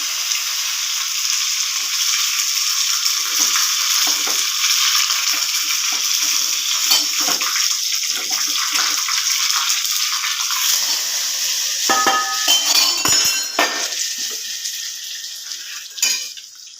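Dal tempering in hot oil for a green gram and drumstick leaf koottu, a loud continuous frying sizzle with spoon stirring and clinks against the pan toward the end.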